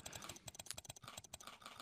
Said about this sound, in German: Hier kann ich ja einfach nur tippen, tippen, tippen.